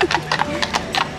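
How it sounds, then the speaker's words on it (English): A horse walks along a beach, its hooves clip-clopping in several quick, close strikes while voices speak nearby. "Hey, there's a horse, Sophia"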